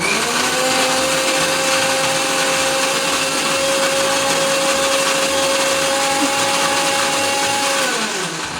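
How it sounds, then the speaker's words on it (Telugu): Mixer grinder whirring steadily at high speed while grinding bread soaked with a little milk, a loud continuous motor whine that holds for several seconds before winding down at the end. "దాని తర్వాత గ్రైండర్లో గ్రైండ్ చేసి"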